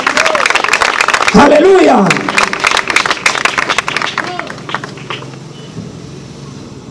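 A church congregation bursts into loud clapping and applause to praise the Lord, with shouted voices and a rising exclamation amid the crowd, the clapping fading into steadier, quieter rhythmic claps.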